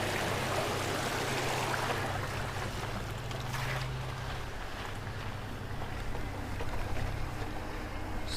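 An electric mountain bike rides through water on a trail, giving a steady loud rush of splashing and churning water with low rumble throughout, no voices.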